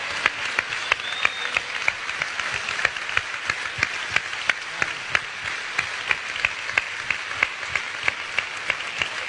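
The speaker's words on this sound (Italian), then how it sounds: "si meritano il vostro applauso" A festival audience in Ferrara applauds steadily at the Internazionale festival, a dense, sustained wash of many hands clapping with sharper individual claps standing out throughout.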